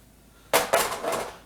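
A metal pot of pasta sauce set back down on a stovetop: two sharp clanks in quick succession followed by a lighter rattle, close and clear with no talking.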